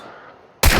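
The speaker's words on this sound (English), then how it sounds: "The good thing about the Winchester is it has a fast fire rate, so it allows you to miss a lot of shots" A Winchester rifle fires in the video game Hunt: Showdown, a single sudden loud blast cutting in after a quiet fading tail.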